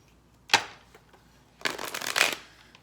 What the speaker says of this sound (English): Just shuffle these here for a second.